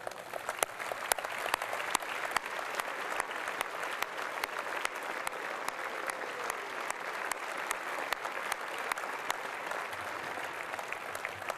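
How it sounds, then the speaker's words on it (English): Sustained audience applause fills the room at a celebration gala, a dense, steady patter of many hands clapping evenly throughout without pause. "let's give them a round of applause."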